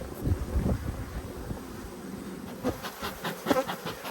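Honey bees fly around an open backyard hive, one of a pair of blue and white hives, making a steady close swarm of buzzing with a soft wind rumble underneath and no voices.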